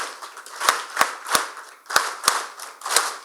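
A conference audience at a pharmaceutical society event claps in a counted rhythmic pattern: six sharp, unified claps in spaced groups, crisp and fairly close, with roomy reverberation and no talking between them.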